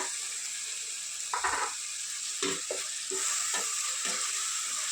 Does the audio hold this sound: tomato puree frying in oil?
yes